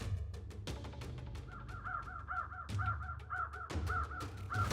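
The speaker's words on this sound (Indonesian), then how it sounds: "hanya diselingi oleh desiran angin dan sesekali kicauan burung gagak" A crow calls with a series of harsh, repeated caws on the Rio Grande floodplain in the Big Bend desert, fairly clear against a soft wind-like background, with no people talking.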